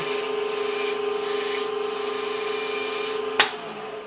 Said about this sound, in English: we're going to take a natural bristle brush and knock some of those off